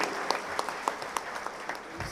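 Audience applause at the 77th anniversary event of the Peasants and Workers Party in Panvel: a steady wash of many hands clapping at moderate loudness, with a few sharper individual claps standing out.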